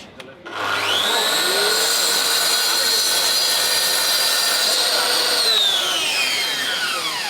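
Mafell quarter-inch router switched on: a brief click, then the motor whines up quickly to a loud, steady high-pitched scream that holds at full speed and begins to drop slightly near the end.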